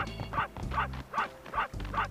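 A dog in the video game Space Station Silicon Valley barks five times in a steady, evenly spaced rhythm, each short yap close and clear with no talking over it.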